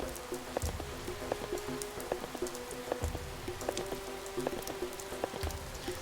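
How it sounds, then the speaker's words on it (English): Rain falls steadily in the fantasy game Vanguard: Saga of Heroes, a constant patter of drops with a faint repeating ambient tone underneath and no talk over it. "So anyway, we can hear rain"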